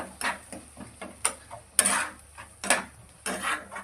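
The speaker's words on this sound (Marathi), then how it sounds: "आपण आता हे भेजा त्यामध्ये टाकून घेणार आहोत टाकून घेऊन त्याला कंटिन्यू असा छान स्टर करून परतून घ्यायचा" A spoon stirs and sautés brain masala (bheja) in a pan, making irregular scraping clinks and taps against the metal, close and moderately loud, with short pauses between strokes.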